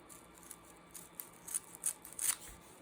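Scissors trim the edge of a piece of tulle with a series of quick, crisp snips that grow slightly louder toward the end, close and quiet, with no voices.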